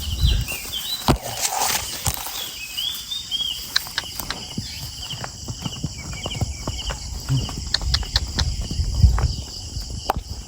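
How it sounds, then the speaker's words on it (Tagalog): Carabao, a water buffalo, plodding along a farm field while carrying a rider before ploughing, its scattered hoof thuds and footfalls soft beneath a steady outdoor drone of insects. "nakasakay na po tayo sa kalabaw"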